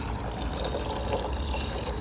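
Water runs steadily into a cooking pot of rice for sushi, a continuous close splashing fill with no voices.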